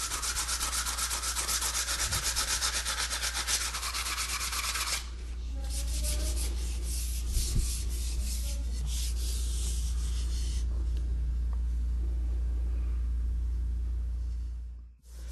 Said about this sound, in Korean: 대나무에 튀어나온 마디는 끌로 깨끗하게 긁고 사포로 문질러 부드럽게 만든다.